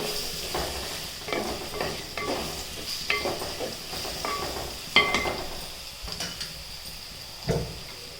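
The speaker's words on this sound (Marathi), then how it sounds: "बटाट्याला चांगलं तेलात परतून घ्यायचं" Potato pieces sautéing in oil in a pan while being stirred, giving repeated scraping, rustling strokes and light clatter over a continuous soft sizzle, close and moderate in level, with no voices.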